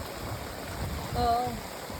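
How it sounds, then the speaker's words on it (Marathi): Rushing flood water in a Konkan village during heavy rains, a strong, steady broadband roar like a swollen stream, continuous and fairly close, with a faint voice briefly audible over it. "खूपच जास्त पाणीचा बहाव आहे"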